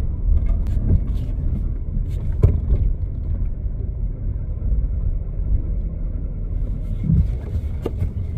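Abandoned car with no working power steering turning around, low engine rumble close by, with scattered clunks and creaks over steady idle noise, no talking.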